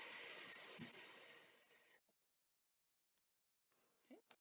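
A voice imitates a snake's hiss with a loud whisper: one sustained, bright hiss lasting about two seconds that fades out, followed by near silence.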